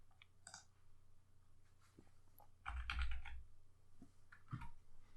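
Computer keys are typed in short bursts, quiet close clicks with a few louder clusters over a low hum, no talking.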